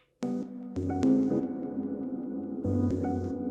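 An Elektron Digitakt playing a minimal house synth pattern through heavy reverb, a few struck tonal hits with a dense low-heavy wash ringing out between them, alone with no talk.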